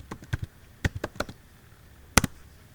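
Someone types on a computer keyboard, and sharp key taps come in short irregular bursts with pauses between them. The taps are close and fairly quiet, with no talking.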